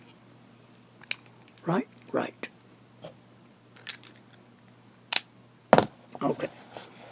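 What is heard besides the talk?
screwing a Visconti Van Gogh fountain pen back together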